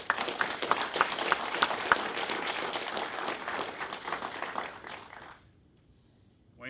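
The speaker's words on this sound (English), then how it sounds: "Round of applause." Sustained applause from a crowd at a police officer's retirement ceremony after 43 years of service, steady clapping that fades out abruptly, leaving near silence.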